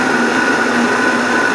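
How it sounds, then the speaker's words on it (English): A Vitamix blender motor whining loudly and steadily as it blends under load, a continuous dense drone with a sustained tonal hum and no voices. "So you can hear it ramp those RPMs up as I force things down to that blade."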